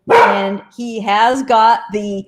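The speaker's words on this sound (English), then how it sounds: "pardon my dog barking here" A dog barks in several sharp, close yelps mixed in with someone talking.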